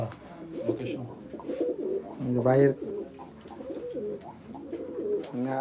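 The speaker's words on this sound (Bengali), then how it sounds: "ফ্লায়ার কবুতর আছে সবগুলো" High-flyer pigeons in a loft give repeated throaty coos, several rising and falling calls close by, with faint voices in the background.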